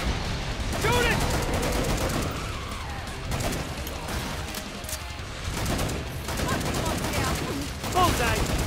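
Gunfire from the video game Killing Floor 2, a dense burst of rapid shots filling most of the clip at steady loudness, with a few sharper bangs standing out.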